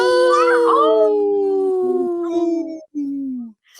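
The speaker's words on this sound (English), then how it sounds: "Can you howl? Howl, Sylvie. Howl." A dog howls close and loud in long sustained, wavering tones, a few rising and falling notes with a brief break before a final howl.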